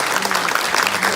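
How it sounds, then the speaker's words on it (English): An audience at a community event breaks into applause, a dense wash of steady clapping filling the short moment. "What do you think about another round of applause?"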